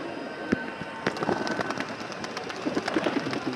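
Male pigeons are let out of an opened loft, with sharp wing claps and flutters bursting out at irregular moments over a busy, noisy outdoor background, close by and moderately loud.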